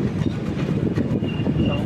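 Kochuveli special fare express train rumbling past with a continuous low roar and faint wheel clatter, loud and close, while someone talks over it.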